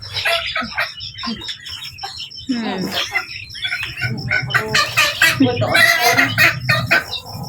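Chickens cluck and call close by, mixed with people talking.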